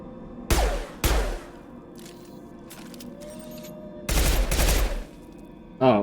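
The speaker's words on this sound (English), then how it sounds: "Oh, a burst pistol and then a not burst pistol." Pistol fire in the video game Mass Effect 2 comes as a few loud, close, sharp shots, with rapid burst-pistol volleys and single shots from a regular pistol. Quieter game sounds play in the gaps.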